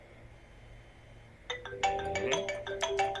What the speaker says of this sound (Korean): 전화가 왔네요.